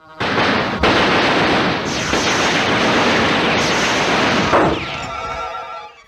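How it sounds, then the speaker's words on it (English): Cartoon doodlebug bombs drop and explode in a Tom and Jerry cartoon: a long barrage of booming blasts and rumbling detonations, loud and dense, with crackling bursts layered over a continuous roar before fading. "Doodle bugs were these bombs that had very distinctive sounds as they dropped."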